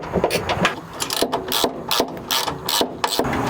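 Quick bursts of a hand ratchet clicking as bolts on a camper cubby inside a Toyota Tundra are tightened, rapid uneven strokes close up with short pauses between them.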